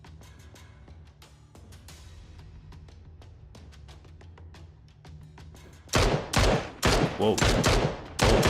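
Mini-14 rifle fire in a shooter game, a sudden loud burst of several sharp gunshots in quick succession after a quiet stretch, with a brief voiced exclamation.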